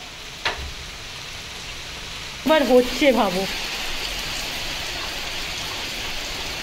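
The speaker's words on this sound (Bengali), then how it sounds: "আর এখনো মুষলধারে বৃষ্টি হচ্ছে।" Heavy rain pours down in a steady, broad wash, and a voice speaks briefly partway through over the downpour.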